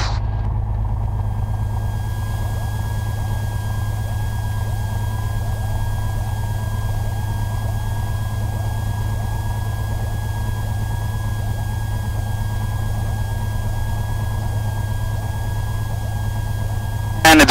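A Piper Dakota light aircraft's engine idles after landing, a steady, close, low droning rumble with a constant hum that continues unchanged throughout.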